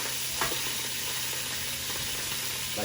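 Butter melting in a pan gives a steady, close sizzle and frying hiss throughout, with a light scrape or stir partway through and no one speaking.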